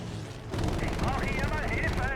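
Rapid gunfire rattles in a Battlefield V battle, a dense, continuous burst of shots that starts abruptly and stays loud and close, with a voice talking over it.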